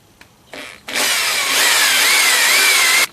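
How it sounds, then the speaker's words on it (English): An electric drill with a 1/8 inch bit spins up after a couple of short starts, then runs steadily with a high whining bore into a Jeep tire carrier mount for a few seconds before stopping. "personally I'm starting with a 1/8 inch drill bit"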